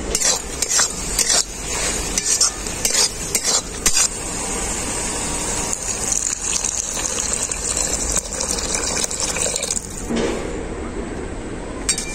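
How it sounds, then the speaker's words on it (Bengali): Water gushes into a pan of fish and spring onion masala cooked with mustard paste, a steady pour with clinks and scrapes of a utensil stirring the pan. "এখন আমি এর মধ্যে দিয়ে দেব পরিমাণ মতো জল"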